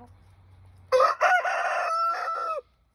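A nearby rooster crows loudly, one full cock-a-doodle-doo in several stuttered bursts that clearly stand out against a quiet background.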